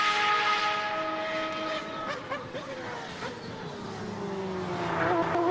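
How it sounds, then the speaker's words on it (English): A 2008 Superleague Formula race car at the Nurburgring in qualifying accelerates and downshifts toward third gear, its high whining engine notes sweeping up and down in pitch as it passes at moderate distance. "getting the car down into 3rd gear"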